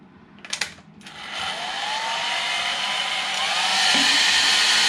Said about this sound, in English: Paulie's doing the hairdryer test.